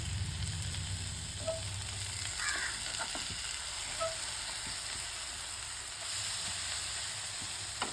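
Egg frying in a pan, giving a steady, moderately quiet sizzle and crackle with a few small pops and stirring scrapes, no talk.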